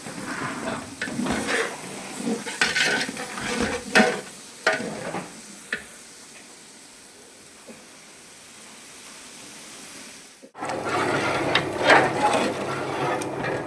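Spinach rice with ginger paste, garam masala, cinnamon and cloves frying in a large pot, bursts of sizzling and scraping stirs, a quieter stretch, then a loud steady sizzle near the end.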